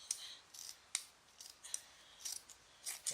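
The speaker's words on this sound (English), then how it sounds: "So what I've done now is I've halved it, and I'm about to cut it." Scissors cutting through curtain fabric in a series of crisp snips, about eight quick cuts in an uneven rhythm, close and fairly quiet with no voices.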